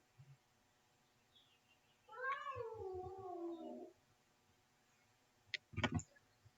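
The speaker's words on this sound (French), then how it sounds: "C'est mon chat." A domestic cat lets out one long, drawn-out meow up close, preceded and followed by soft clicks and a brief thump in an otherwise quiet room.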